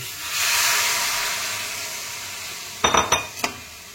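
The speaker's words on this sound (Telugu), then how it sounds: "ఇప్పుడు దానికి సరిపడా వాటర్ వేసుకోవాలి." Water hits hot crab masala curry frying in a pan, setting off a sudden loud hiss of steam that fades slowly, followed by a few sharp clinks of a utensil against the pan.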